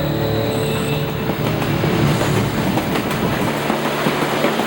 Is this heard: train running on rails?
yes